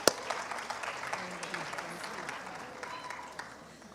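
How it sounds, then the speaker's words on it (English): Audience applause at a school assembly: a soft, continuous patter of many hands clapping at moderate distance, with some talking in the room beneath it. "Let's have a nice round of applause for Ms. Chibitsky, please."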